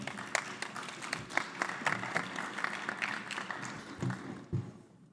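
Sparse, half-hearted applause from a conference audience at a basic education sector gathering, with scattered individual claps that thin out and fade toward the end.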